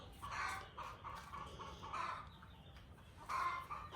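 A hen clucks in three short bursts of repeated clucks, calling for a rooster, moderately close, with quiet background noise between them.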